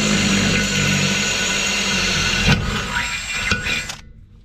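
A 1 1/8 inch drill bit drives steadily through metal with a loud whine, close by, slowing and stopping near the end with a few sharp catches.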